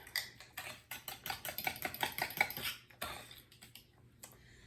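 Pumpkin pie filling with raw sugar being beaten in a bowl, a fast run of clicking taps and scrapes in quick rhythmic bursts, close and fairly quiet, pausing briefly midway before resuming.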